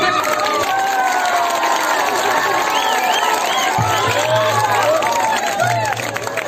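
Clapping and cheering from guests at a village wedding during the sindoor rite in a Bhojpuri family play, a loud continuous mix of applause, shouts and children's voices with talk running through it.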